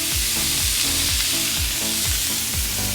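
Beef flank steak sears in a hot skillet with a loud, steady sizzle, broken by a rhythmic series of soft scraping stirs.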